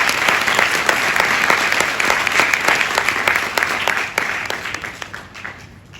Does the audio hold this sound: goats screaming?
no